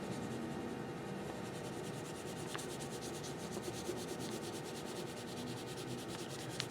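A crayon is pulled across paper while drawing, making a faint, continuous dry scratching and rubbing close by with no talk over it.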